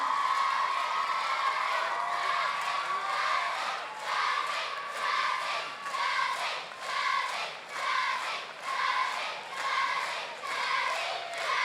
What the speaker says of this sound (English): Rapturous noises coming from the stage from the school children here.